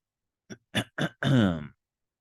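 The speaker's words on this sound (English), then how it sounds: "the sound of his sister clearing her throat" A person clears their throat up close: a few short grunting catches followed by a longer voiced rumble, alone in quiet.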